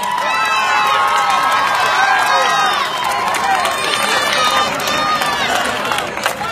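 An audience at a live pop concert cheers and applauds loudly, with high excited shouts and screams rising over continuous clapping, sustained and close throughout.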